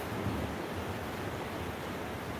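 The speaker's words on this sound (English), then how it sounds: "It is really pouring down rain here, really bad" Heavy rain pouring down outdoors, a dense, steady hiss and low rumble that stays constant and fairly loud throughout with no voices.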